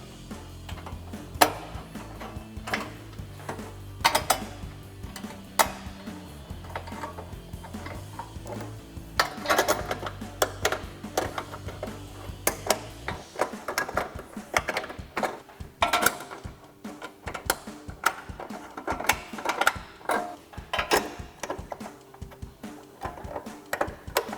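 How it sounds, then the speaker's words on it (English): Bolts being threaded in and tightened with a socket while mounting LED fog light brackets on a 2014-2015 GMC Sierra 1500, heard as close, irregular metallic clicks and ratcheting taps with low mechanical hum early on. "start threading in our bolts"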